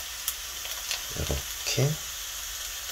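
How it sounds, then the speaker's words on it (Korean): Vegetables stir-fried in a pan for a hamburg steak breakfast, a soft sizzle with a few brief scraping and clinking stirs, while someone speaks briefly. "야채를 한 번 더 볶아서"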